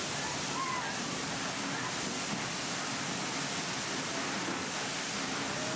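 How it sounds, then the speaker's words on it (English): A cascading waterfall roars as a steady, dense rush of falling water, even and continuous from start to finish, loud and full with no other sound standing out. "the cascading water flow of spectacular waterfalls"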